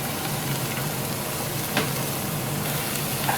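Almonds, dried coconut and cashews fry for a dry fruit halwa, giving a dense, even sizzle that holds steady throughout with a few faint stirring clicks and no speech.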